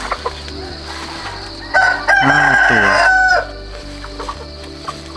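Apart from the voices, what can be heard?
rooster crowing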